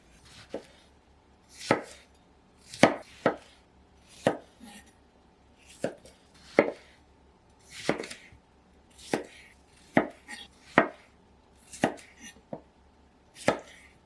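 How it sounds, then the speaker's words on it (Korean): A knife roughly chopping tomatoes into pieces: a run of crisp, sharp cuts at an uneven pace, close up and with no other sound. "토마토는 적당한 크기로 대강 썰어줄게요"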